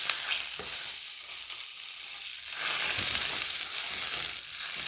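Bacon fat or lard sizzles and crackles in a skillet on a burner turned to high, a steady close hiss without talk.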